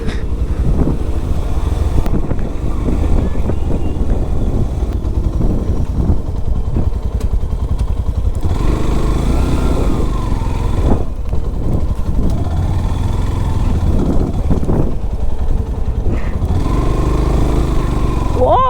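A motorcycle rides along an outing road, its engine droning steadily and loudly with heavy wind buffeting. The engine surges and dips as the wheels skid, and voices come through intermittently.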